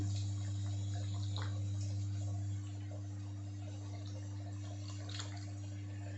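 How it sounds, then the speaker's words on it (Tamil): Tamarind water is poured into a simmering curry of cowpeas and radish, giving a faint watery trickle beneath a strong steady electrical hum. No one talks. "நான் இப்போ இந்த புளி தண்ணியை இதில் குழம்புல சேர்த்துடலாம்"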